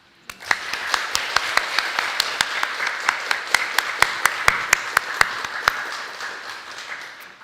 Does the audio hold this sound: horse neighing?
no